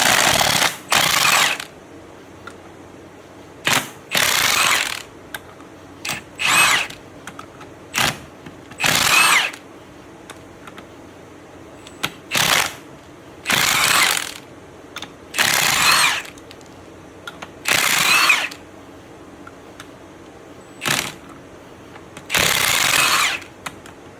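Repeated bursts of air-ratchet or impact-style tool work on a left-hand threaded bolt during a 3.91 gear swap on a 2011 Camaro SS, about ten loud separate spurts with short gaps between them.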